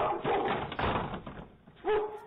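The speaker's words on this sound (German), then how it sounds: "Der Hund war so aufgeregt." An excited dog gives a few quick, faint barks and yips in short bursts, with a pause between them.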